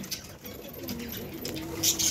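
Pet pigeons coo softly near a cage in a short, quiet burst of low murmuring calls, with light rustling and patter around them.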